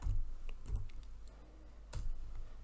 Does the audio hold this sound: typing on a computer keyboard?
yes